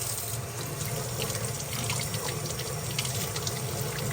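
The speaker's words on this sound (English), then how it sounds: "Let's see how they look under the faucet." Water runs steadily from a faucet over a bar of chocolate tallow soap, a continuous close splashing hiss with no talking.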